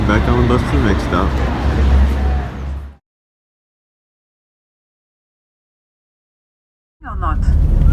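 Tour bus driving through Paris, a steady low engine and road rumble under chatter and voices, cutting out to silence for several seconds before the bus noise and talk return.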